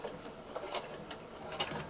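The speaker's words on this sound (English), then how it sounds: "I'm going to do a few reverse stitches there" A sewing machine running reverse stitches along a T-shirt hem gives a faint, quick mechanical whirring with soft ticking pulses, close and low in level.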